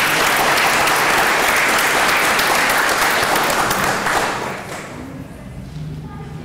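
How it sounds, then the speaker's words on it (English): A crowd at a city council meeting applauds loudly and steadily for several seconds, then the clapping thins out and fades, with faint talk underneath. "We can give her a quick round of applause as well."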